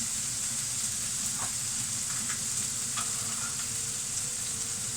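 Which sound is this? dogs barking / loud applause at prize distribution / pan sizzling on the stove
pan sizzling on the stove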